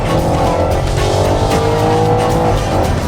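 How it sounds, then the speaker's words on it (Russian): An Audi RS6 with APR tuning launches hard from a standstill with stability control off, engine roaring loud and close as the tires squeal and slither throughout, with no speech. "Вы отключаете систему стабилизации, а после этого вы зажимаете левой ногой тормоз, правый газ, и после этого поехали!"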